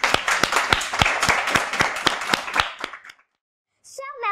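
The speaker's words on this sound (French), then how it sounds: "Applaudissons-la chaleureusement." A small audience claps in a quick, sharp burst of individual hand claps for a school's first director general, fading out after about three seconds, then silence before a voice begins.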